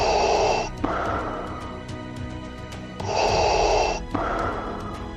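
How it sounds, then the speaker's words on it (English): Darth Vader's mechanical breathing effect plays as two slow inhale-exhale cycles, each a loud, hissing, respirator-like rasp with a short pause between breaths. "Vader's mechanical breathing"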